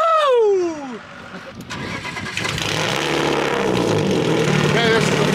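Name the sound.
remote control BMW car engine starting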